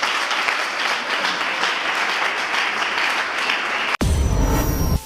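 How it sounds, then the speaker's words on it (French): An audience at a gospel singing contest claps loudly and continuously for a singer, a dense, steady applause that cuts off abruptly near the end and is followed by a brief burst of louder noise. "On acclame"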